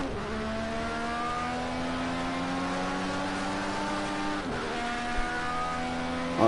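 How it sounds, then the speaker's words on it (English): A 2016 IndyCar race car in a video game at Indianapolis, its engine droning at high revs and climbing steadily in pitch, with a brief shift dip and renewed acceleration. "Gotta be gentle on the throttle, I don't want to spin the car out."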